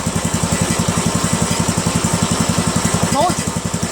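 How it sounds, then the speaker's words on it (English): Poulan 16.5 HP lawn tractor engine with a loose second muffler stage, running steadily up close with a fast, even rattling pulse throughout. "That you hear is that second level of the muffler that's loose."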